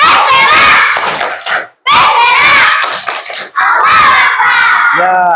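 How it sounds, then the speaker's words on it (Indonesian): Schoolchildren in a classroom shout a rhythmic tepuk semangat clapping chant together, loud and close, in bursts of voices and claps separated by short pauses. "Oke, tepuk semangat."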